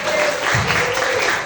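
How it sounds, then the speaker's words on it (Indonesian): Vocational high school students applauding in a hall, a short, loud, dense burst of clapping. "Tepuk tangannya luar biasa ya."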